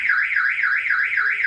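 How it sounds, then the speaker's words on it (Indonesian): A Toyota Innova Reborn car alarm sounding when the lock is pressed with a door left open: a steady warbling siren tone rising and falling in a fast regular cycle, loud and close, with no other sound. "alarm akan berbunyi seperti ini ketika saya pencet lock"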